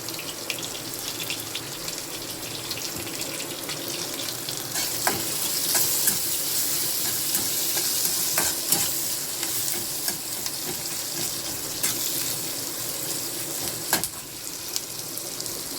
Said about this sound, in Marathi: कांदा एकदम फ्राय झालेला आहे मस्तपैकी